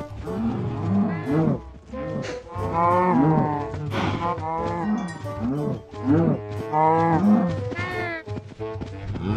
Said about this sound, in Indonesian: Setelah beberapa hari, sapinya sudah besar semua. Dan ini saatnya aku menyembelih mereka.